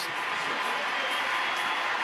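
Hockey arena crowd in Washington, D.C. rising to its feet during a scoreless NHL shootout against Boston, a dense, steady roar of many voices filling the space without pause.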